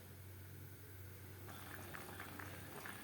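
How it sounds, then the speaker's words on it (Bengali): Fish curry gravy boiling in a pot, a faint steady bubbling with small pops growing a little livelier partway through. "3-4 মিনিট গ্রেভি বেশ ভালো করে ফুটিয়ে নেব।"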